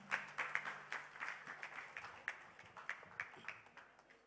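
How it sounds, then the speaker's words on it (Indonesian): An audience at a concert event claps in a steady, faint patter of scattered hands that carries on throughout. "Tepuk tangan untuk Bung Man."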